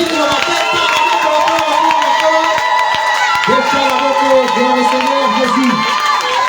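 A church congregation acclaiming Jesus, a loud crowd of cheering and shouting voices with whoops, sustained and close, swelling toward the second half.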